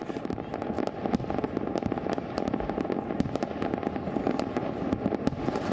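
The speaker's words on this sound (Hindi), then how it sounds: "एथेंस के दुर्ग की इस आतिशबाजी ने लोगों का मन मोह लिया" New Year fireworks over the Acropolis in Athens burst continuously, sharp cracks and pops crowding over a steady roar of a large distant display, with no talk.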